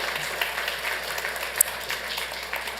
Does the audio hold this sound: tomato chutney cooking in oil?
no